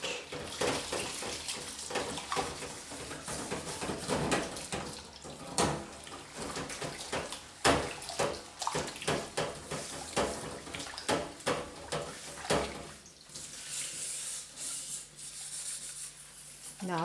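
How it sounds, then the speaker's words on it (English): A pot is scrubbed with a scouring pad under running water, making rhythmic rubbing and scraping strokes over a steady trickle of tap water, close and moderately loud. "So I wash it like this."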